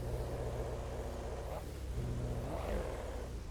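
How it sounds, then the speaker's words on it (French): Car engine revving in a video game, a low rumbling drone that swells in pitch twice, moderately loud and alone. "On va écouter un peu le moteur."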